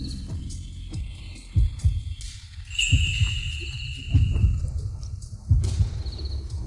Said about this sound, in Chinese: 心跳这么快